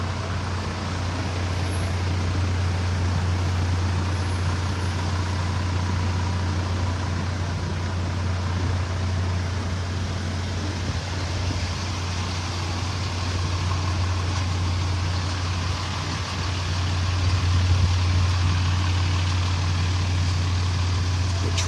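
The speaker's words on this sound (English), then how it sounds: "Truck after truck after truck." Heavy road traffic, mostly trucks, rolls past along Gulf Shore Drive in North Naples, Florida, a steady engine and tire rumble with a low drone that never lets up and no talking.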